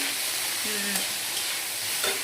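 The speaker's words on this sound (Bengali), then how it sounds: "এরপরে আমি ভালো করে ভাজাভাজি করে একটু নাড়ানাড়ি করে" Tomatoes with a little salt and turmeric are being stirred and fried in a pan, giving a steady close hiss with soft scraping sounds from the stirring and no talking.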